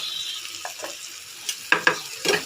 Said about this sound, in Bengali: চলো এটাকে একটু ভেজে নিই দেখছো কেরম পাচ্ছে ফাটাস ফাটাস করে